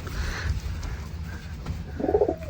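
Domestic village pigeons giving low, throaty coos close by, a few soft rolling calls in quick succession, with a brief louder coo near the end.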